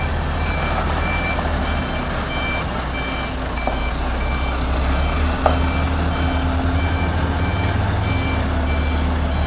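A truck backing in to park sounds steady electronic reversing beeps at a regular pulse over a low, continuous diesel engine rumble, with faint traffic noise around it.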